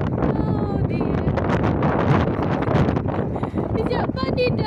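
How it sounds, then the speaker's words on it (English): Strong wind roars and buffets the microphone outdoors in a constant, loud rush, with faint voices barely audible underneath. "It's very windy."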